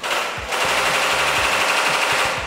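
Indoor BB gun shooting at a military experience center, rapid bursts of sharp pops firing in quick automatic succession over a loud, constant background hiss.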